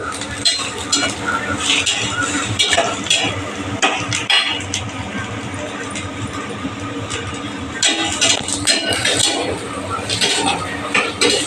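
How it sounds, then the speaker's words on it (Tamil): Grated coconut being sautéed in a pan for a vallarai chutney, heard as continuous close scraping and clattering of a spoon against metal, rhythmic and fairly loud. "ஒரு அரை மூடிக்கு கொஞ்சம் கம்மியாக தேங்காயும் போட்டு நல்லா வதக்கிக்கோங்க"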